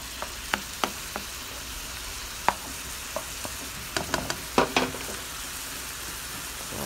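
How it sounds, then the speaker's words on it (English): Steak in teriyaki and zesty Italian dressing simmering in a pan, a steady soft sizzle with scattered sharp pops and crackles, closer and busier toward the end, with no voices. "So that's simmering down just a bit."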